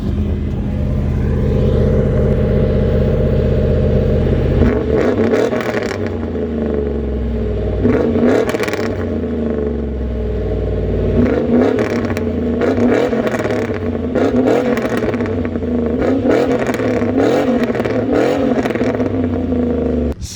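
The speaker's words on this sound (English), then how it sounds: "maybe I'll just rev it a couple of times for you so you guys can hear what it sounds like" Supercharged 500 hp fourth-generation Camaro V8 idles with a deep, loping rumble, then is revved repeatedly in strong rising and falling bursts, loud and close, with no talk over it.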